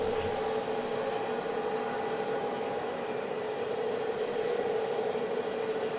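Airbus A320neo jet at Southend Airport, a steady continuous engine drone with a tonal whine, loud and unbroken throughout.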